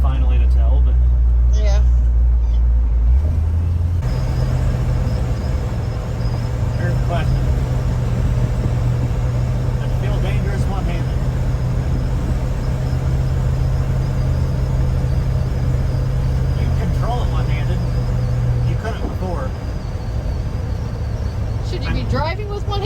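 Steady low rumble of an old Ford truck driving with new steering gear, a constant close engine and road drone lasting throughout, with people talking over it.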